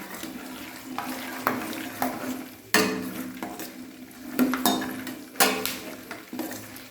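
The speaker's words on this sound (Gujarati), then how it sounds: "અને બી સરસ ફ્રાય કરી લઈશું" Cashews, coconut and curry leaves fry in oil for a crunchy chevdo snack, with repeated scraping stir strokes roughly once a second over a soft sizzle, close and clear.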